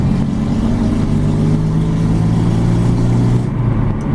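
Four-cylinder engine of an Acura RSX Type S (DC5) with Mugen suspension revving hard on a drive, a loud, sustained droning roar from inside the car that cuts off abruptly near the end.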